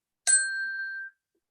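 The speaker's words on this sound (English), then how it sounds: "I have my chimes, and this is what I'm going to do." A single struck chime, used as a time reminder at a presentation session, rings out clear and bright with a sharp attack and a sustained, slowly fading metallic tone in otherwise silence.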